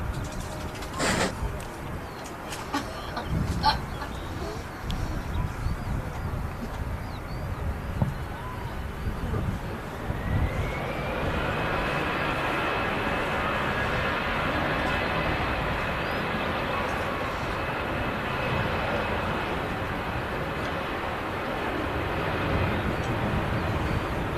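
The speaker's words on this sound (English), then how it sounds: "There goes that EasyJet." An EasyJet airliner passes at Manchester Airport in the evening, its jet roar building from faint to a sustained broad rush with a rising whine, preceded by cooing pigeons and birdsong nearby.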